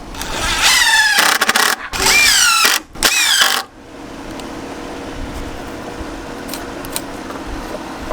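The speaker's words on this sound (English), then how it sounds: "we'll go ahead and attach the screws on the side, which locks the beam to the joist" Power driver sinking screws through the side of a beam into a joist on an above-ground pool deck build, three loud whirring bursts in the first few seconds, then only quiet outdoor background.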